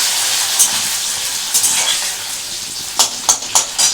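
Onions frying in hot oil hiss steadily in a pan while a utensil stirs them, with several sharp scraping clinks toward the end, close and fairly loud.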